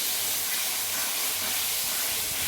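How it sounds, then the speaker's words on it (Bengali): Spice paste of dried red chilli, coriander, salt and turmeric frying in oil for a goat meat curry, heard as a dense, steady hiss of sizzling throughout. "মশলাটাকে এবার ভালোভাবে কষিয়ে নেবো তেল ছাড়া পর্যন্ত।"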